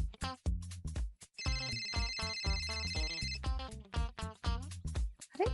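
A phone ringtone from an incoming call plays a bright electronic melody with a sustained high chiming section, moderately loud and close, with no talk over it.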